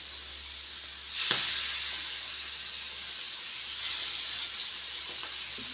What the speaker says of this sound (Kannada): ಈ ಥರ ಎಣ್ಣೆಯಲ್ಲಿ ಫ್ರೈ ಮಾಡಿಕೊಂಡು ಕೊಟ್ಟು ನೋಡಿ.